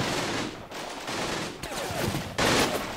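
Automatic gunfire from soldier units in a trench-warfare strategy video game, dense rapid bursts of rifle and machine-gun fire, loud and continuous with brief gaps.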